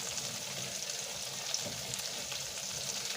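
Minced garlic sizzling in a pan of oil over lowered heat for honey garlic chicken, a steady close crackling fry with a few small pops and faint stirring, no talk.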